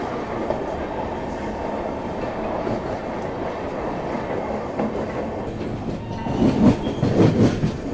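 A Rajdhani Express train rolls through New Farakka Junction without stopping, heard from on board as a steady rumble with rhythmic clickety-clack of wheels over rail joints, growing louder and rougher toward the end.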